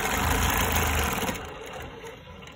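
Longarm quilting machine stitching Baptist fan patterns, a steady motor whir with fast rhythmic needle chatter that runs loud for about a second and a half, then softens and continues more quietly.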